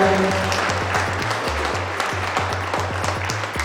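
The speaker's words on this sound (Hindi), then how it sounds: "जोरदार ताली से" An audience applauds at a student awards ceremony, steady clapping throughout over a low rhythmic musical beat.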